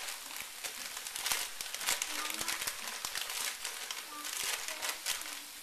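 Plastic noodle packages, one wrapped inside another, crinkle and crackle as they are torn open during stir-fry cooking beside a pot of boiling water. The rustling is close and continuous, with sharp crackles throughout.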